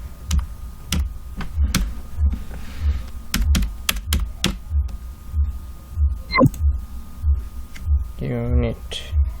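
Keys clatter on a computer keyboard while entering column headings in a Microsoft Excel sheet, irregular bursts of clicks over a steady low throbbing hum, ending in a brief squeaky tonal sound.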